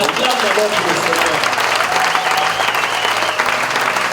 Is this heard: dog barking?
no